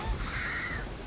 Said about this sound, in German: Irgendetwas bewegt sich da vorne. Was ist das? Das ist ein Vogel.